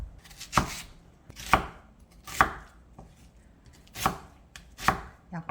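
A knife chops small cheongyang chili peppers and medium onions into bite-size pieces, five firm, evenly spaced cuts sounding close and clear against a cutting board with no talk.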